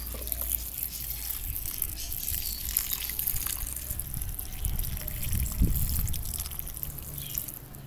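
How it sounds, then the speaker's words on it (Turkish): Water poured onto the soil of a newly planted geranium, with soft trickling and dripping at close range and a slightly heavier splash toward the end, no voices. "Evet, can suyunu da verelim."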